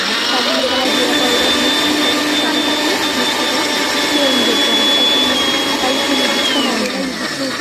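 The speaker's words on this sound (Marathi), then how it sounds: "मला मिक्सर फिरवायचं आहे" A kitchen mixer grinder blends green chutney of chillies, ginger, garlic, peanuts and cumin, producing a loud, steady, high-pitched motor whine that holds constant close by and begins winding down near the end.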